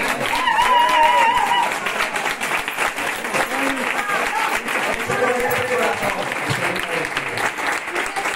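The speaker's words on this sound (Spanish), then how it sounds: "Como se merece un aplauso." Audience applause at the lighting of a nativity scene at an activity centre in San Pedro Alcántara, a loud, continuous round of clapping from a crowd with voices and cheers mixed in throughout.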